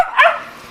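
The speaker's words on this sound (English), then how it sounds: "That's a dog." A single dog bark, sharp and close, rises briefly out of a quiet indoor room and fades quickly with no one talking over it.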